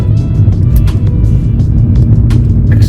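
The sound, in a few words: BMW F30 320i four-cylinder exhaust sound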